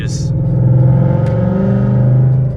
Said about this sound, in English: So that's downshift to third gear